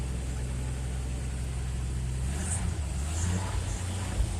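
A Chevrolet truck engine idles before it has warmed up, a steady low rumble close by that stays even throughout, with no talking.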